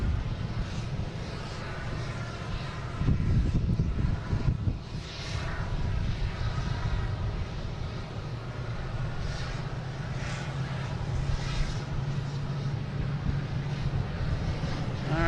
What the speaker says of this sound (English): Next taking off should be a Delta heading to Detroit.